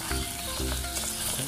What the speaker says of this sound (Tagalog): Pagkalipas ng 3 minuto, lagay na natin ang bawang. Halo-haloin lang natin.